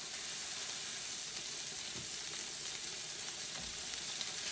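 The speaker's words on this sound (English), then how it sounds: "Now I'm just gonna add on these patties." Beef burger patties and bacon fry on a griddle with a steady, even sizzle and hiss that runs unbroken throughout.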